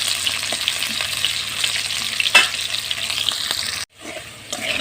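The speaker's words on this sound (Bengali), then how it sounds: "আলুগুলো ভাজা হয়ে গেছে তুলে নেব" Potatoes frying in a pan crackle and sizzle steadily up close, with a sharp stirring scrape midway and a brief cut near the end before the frying resumes more quietly.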